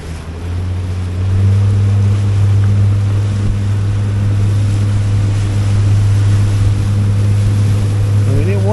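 A Gemini Wave Rider 650 RIB drones steadily at close range on open water among the Inner Hebrides near Easdale, its low engine hum continuous beneath wind rush and hull slap, rising slightly after the first second.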